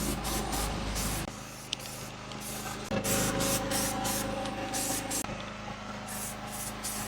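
Spray paint hisses from a can onto torsion axle brackets for a boat trailer, in close, continuous bursts with short breaks between passes.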